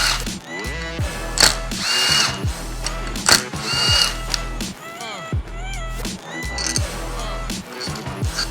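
A power tool, probably a drill or impact driver, backs out clutch cover bolts on a Yamaha YFZ450R quad. It whines up and down in short bursts with ratcheting mechanical noise, close and loud, and there are a few pauses between bolts.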